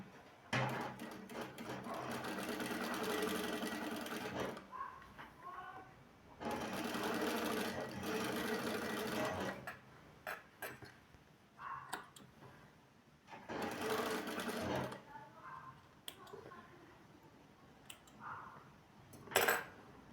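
A sewing machine stitches patchwork fabric, running in several bursts of fast, even whirring of a few seconds each, separated by pauses filled with small clicks and fabric handling, up close and fairly quiet.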